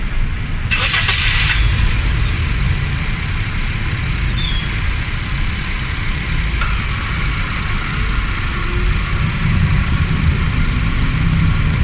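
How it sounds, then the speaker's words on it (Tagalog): A car engine is cranked during a cranking test with a Lancol Micro 200 Pro battery tester. A short, harsh starter whirr quickly catches, and the engine settles into a steady, close idle rumble. "So, start the engine pasuyo tayo"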